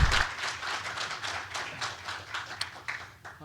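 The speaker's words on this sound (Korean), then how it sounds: "큰 박수로 모시겠습니다." An audience at a Korean energy policy forum on gas supply security gives a soft, steady round of applause to welcome a speaker. The clapping is fairly distant and continues evenly for a few seconds.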